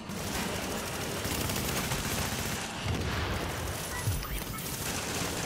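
Rapid gunfire and scattered shots in the video game The Division, a dense, continuous crackle of bursts with occasional heavier thumps.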